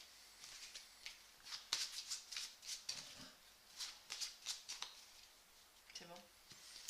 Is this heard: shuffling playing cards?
yes